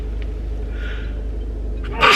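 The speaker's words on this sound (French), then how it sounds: "Oh bah ça y est, maintenant j'éternue." A single sharp sneeze bursts out near the end, loud and close, after a stretch of quiet room hum with no talking.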